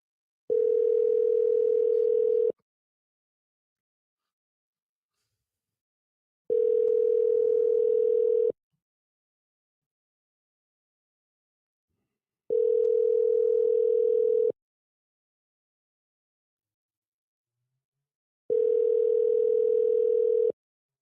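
Outgoing phone call ringback: four steady two-second tones separated by four-second silences, clean and even, with no talking.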